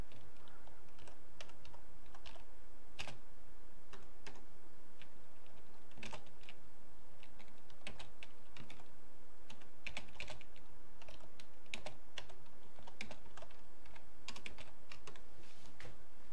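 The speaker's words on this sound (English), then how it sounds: "they're not letting me type in, the stupid keyboard" Typing on a computer keyboard while doing Duolingo English-to-Japanese lessons: a steady run of crisp, close key clicks with irregular rhythm, fairly quiet, with no talk.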